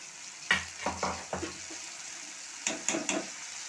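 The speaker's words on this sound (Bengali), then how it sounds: "এখন আমি মশলাটা একটু ভালো করে কষিয়ে নেব" Ground spice paste sautéed in a pan for potato curry gives a soft sizzle beneath a quick series of stirring scrapes, then a short pause and a few more strokes, with no talk.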